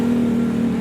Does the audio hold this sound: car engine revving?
yes